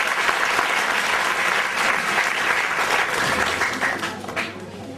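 Audience applause after a song at a Makar Sankranti celebration, steady dense clapping filling the whole stretch and tapering slightly toward the end, with a low hum underneath.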